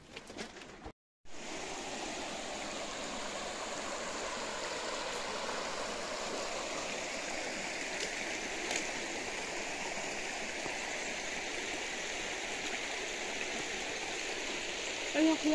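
Steady rushing flow of a stream beside a hill temple at Arunachala, a continuous broadband wash close by with no break except a brief dropout near the start.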